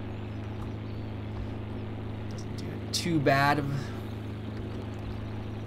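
Steady low drone of an old IH Farmall tractor engine heard from inside the cab in Farming Simulator 2013, continuous and even, while someone talks briefly over it midway.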